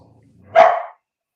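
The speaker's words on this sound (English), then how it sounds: "My dog wants to go outside, guys." A single loud, close dog bark lands midway through, preceded by a faint low whine and followed by silence.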